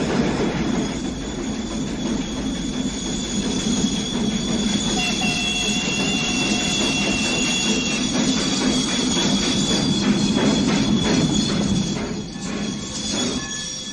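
A train rolls along the rails on the way to the Tahlequah, Oklahoma prison in 1881, with a steady loud rumble of rolling stock and long squealing wheel tones across the stretch, no voices.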